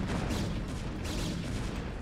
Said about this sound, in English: cannon getting wiped out, no energy left, and now Darren has no army to speak of